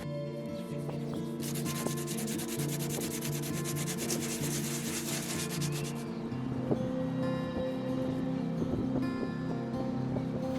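Sanding a wooden top piece of a campervan's interior fit-out, a steady close rasping scrub running for several seconds and then stopping, with lighter rubbing and handling noises continuing afterward.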